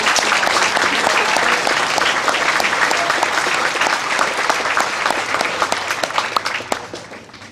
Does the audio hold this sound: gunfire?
no